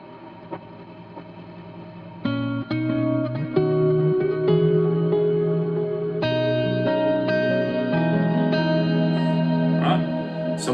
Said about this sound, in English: what I've got there is a clean tone with a dotted eighth note delay and a wet reverb